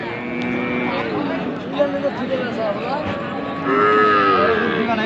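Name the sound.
cattle mooing at market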